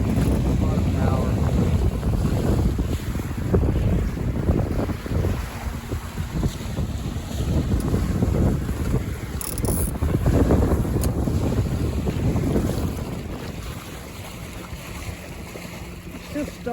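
Wind of about 7 to 8 knots rushing over a Buccaneer 18 sailboat in moderate conditions, a loud steady buffeting roar mixed with water wash and hull noise, with someone talking at times.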